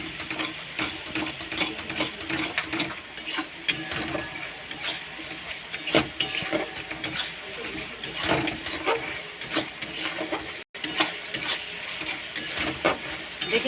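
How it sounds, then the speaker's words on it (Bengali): Masala spices sizzle in oil in a pan, with a steady crackling fry under repeated scraping and stirring strokes of a spatula close by. "আর একটু মশলাটা কষিয়ে নেব।"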